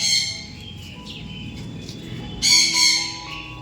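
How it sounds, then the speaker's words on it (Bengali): Many birds call at once outdoors in the morning near a house, with overlapping squawks and chirps at varying distances, and a louder burst of calls near the end. "এত পাখির আওয়াজ!"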